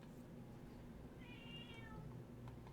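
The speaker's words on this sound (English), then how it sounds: "There goes my kitty." A house cat meows once in a drawn-out, fairly faint call over a steady background hum, with no talking.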